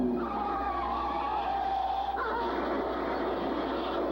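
Car tires skid and squeal while parking, a sustained screech with a sharp pitch shift midway, heard alone and fairly loud.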